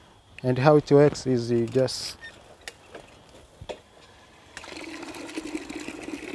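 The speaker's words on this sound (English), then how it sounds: "pedal it and you can take water from the well to my home" A pedal-powered water pump built from bicycle parts, drawing well water, runs as a steady mechanical whirring and churning for the last couple of seconds, following someone speaking near the microphone.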